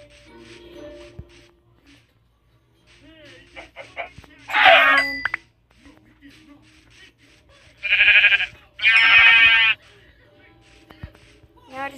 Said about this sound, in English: Now I just need one more sheep.